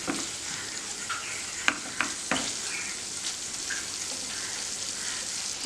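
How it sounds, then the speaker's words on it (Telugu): Paneer pieces fry in a pan toward golden brown for hotel-style paneer butter masala, giving a steady close sizzle with a few sharp stirring clacks and crackles. "ఇది మనం పన్నీర్ కొంచెం గోల్డెన్ బ్రౌన్ అయ్యే వరకు మనం దీన్ని ఫ్రై చేసుకోవాలండి."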